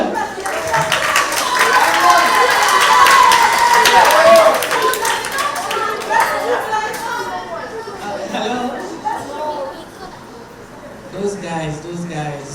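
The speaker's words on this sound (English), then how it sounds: "You can clap for him as well." An audience claps at the Mayor's Children's Ball, an elegant evening event at City Hall, with loud applause swelling early and fading out under chatter and voices from the room.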